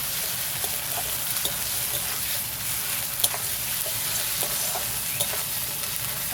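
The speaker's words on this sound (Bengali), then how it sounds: "দিয়ে দেবো আদা রসুন বাটা, খুব ভালো করে কষিয়ে নেব।" Ginger garlic paste frying and being stirred in a pan for a rustic home-style chicken kosa, a steady close sizzle with scattered light scraping ticks of the spatula and no voices.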